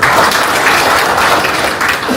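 Audience at a free spectacles distribution event for a cooperative's 12th anniversary claps in a steady, dense burst of applause throughout, fairly loud and close, with no talking.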